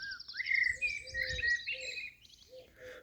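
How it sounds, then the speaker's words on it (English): A blackbird sings in a tree overhead in the Oxfordshire countryside, a run of bright, fluting phrases and chirps close by, with a faint low outdoor rumble beneath and no talking. "I hope you can hear the blackbird above me in the tree here singing."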